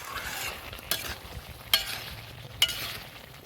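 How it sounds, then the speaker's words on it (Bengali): Chicken with sesame and a little water sautéing and sizzling in a pan, a steady soft hiss broken by three sharp scrapes of the spoon, close and without talk. "তিল আর জল দিয়ে হালকা কষে নিচ্ছে"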